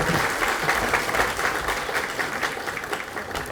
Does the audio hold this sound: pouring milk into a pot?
no